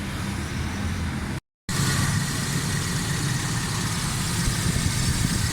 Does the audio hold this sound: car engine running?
yes